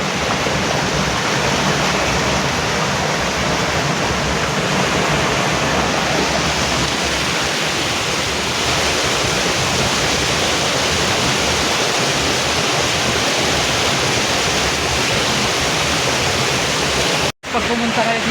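Water pours steadily at a waterfall in Albay, a loud, continuous broadband rush filling the whole scene from start to finish, close and unbroken, with only a brief dropout near the end.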